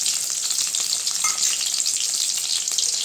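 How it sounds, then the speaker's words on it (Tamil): Shallots and garlic fry in hot oil with a steady, dense sizzle and occasional stirring scrapes, close and continuous throughout with no talking. "நல்லா வெங்காயம்லாம் வதந்துட்டுங்க."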